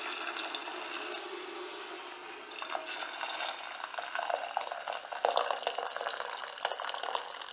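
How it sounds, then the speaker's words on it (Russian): Hot water from a kettle pours into a small pot of chicken pieces for uncooked compote in a home kitchen, a steady close splashing and gurgling stream that runs on for several seconds without talk. "И залью я вот это сейчас все горячей водой из чайника."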